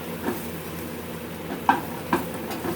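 Shallots softening in a pan give off a low, steady sizzle, faint and even, broken by a couple of small stirring clicks near the end.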